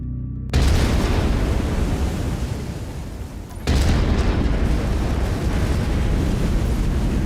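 An autocannon on a mech in MechWarrior 5: Mercenaries fires heavy booming rounds. A loud blast cuts in after a quiet start, a rumbling roar follows, and a second burst sets off more sustained heavy rumble.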